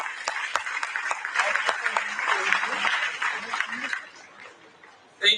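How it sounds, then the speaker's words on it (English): An audience at a youth summit on human fraternity applauds a Nobel laureate, clapping and light chatter with some chuckles that fade out near the end before a brief close sound. "A big round of applause for Nobel laureate Lema Boy."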